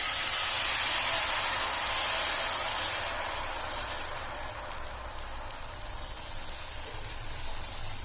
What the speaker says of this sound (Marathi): तापलेल्या तव्यावर आता थोडंसं बॅटर टाकून घ्यायचं